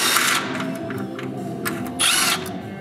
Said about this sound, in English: Using a 13mm socket, remove the nuts holding the bolts that hold the motor mount to the frame.